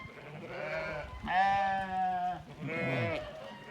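Farm sheep, young ewes kept apart from weaned lambs, bleat close by in three loud wavering calls, the middle one longest and clearest, with short pauses between them.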